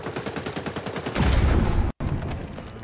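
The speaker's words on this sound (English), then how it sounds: "I just straight up fired at our own teammate." Rapid gunfire in the shooter game XDefiant: a steady stream of quick shots, then a heavier loud burst that cuts out briefly before more firing follows.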